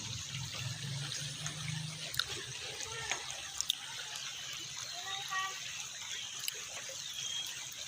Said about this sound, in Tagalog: Napakalinis po ng ilog dito.